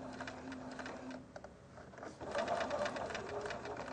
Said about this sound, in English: And then sew through to the end.